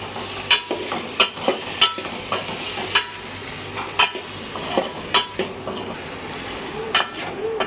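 A spoon scrapes and knocks rhythmically against a pan while a potato and onion filling sizzles underneath, with repeated metallic clinks at an uneven pace.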